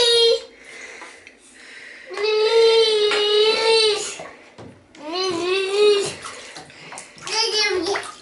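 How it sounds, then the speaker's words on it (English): Bubbling water as a child blows bubbles into it, with the child's voluble, crying-like vocalizing layered over it in bursts, close up, with splashing between the sounds. "Wanna blow some more bubbles?"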